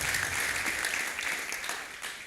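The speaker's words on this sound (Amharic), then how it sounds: "አጨብጭቡ ለጌታ ክብር" A church congregation breaks into sustained applause during a sermon, a thick, even wash of many hands clapping together, loud and unbroken throughout.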